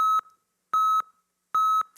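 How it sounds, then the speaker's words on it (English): An alarm clock goes off in the early morning with loud, clear electronic beeps in three evenly spaced double-beep pairs, alone with no other sound. "And at 6 a.m., my alarm goes off."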